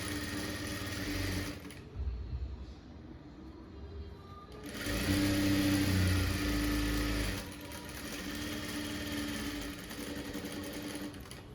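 A sewing machine stitches the band of a blouse in steady motorized bursts, running continuously with brief pauses and a louder, faster stretch in the middle, close and clear.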